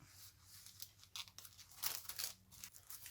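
Paper pieces for birthday cards being torn off by hand, a few short, quiet ripping and crinkling bursts close by, with no speech.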